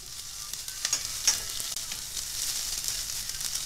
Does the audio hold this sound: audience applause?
no